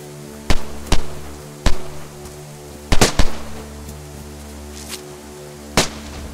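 Gunfire in the survival game DayZ: about seven sharp, loud cracks at irregular intervals, some in quick pairs, over a constant low hum, with no speech.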